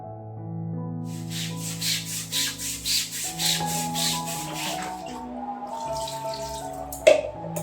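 Soaked clothes and a bed cover are hand-washed in water, giving steady rhythmic rubbing and sloshing strokes close by, with a faint tonal hum underneath and a brief knock near the end.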